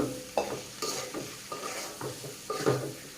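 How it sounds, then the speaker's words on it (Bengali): Cabbage with meat, chilli, coriander, cumin, garam masala and turmeric powders frying in a pan for a vegetable roll, with a steady sizzle under repeated scraping stirs of a spatula, close and fairly loud, no voices. "এবার এরকম করে আমি ভেজে নেব"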